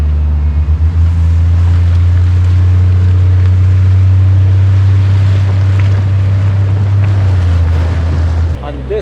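A vehicle drives through deep, shaded snow in 2-wheel drive, its engine a loud, steady low drone throughout, with muffled rumble and wind noise.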